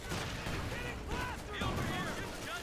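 A Puma armored car fires in a Company of Heroes 2 battle, with a run of heavy, rumbling shots and explosions that carry on under a commentator's steady talk.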